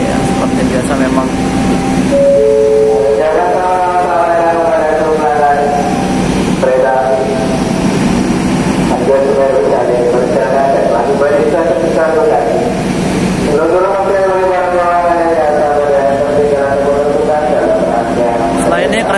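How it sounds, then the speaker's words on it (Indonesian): Argo Semeru passenger train running, a loud steady rumble of wheels and carriage noise throughout, with someone talking over it nearly the whole time. "Setelah ini kereta api Argo Semeru akan berhenti kembali di stasiun Jatinegara."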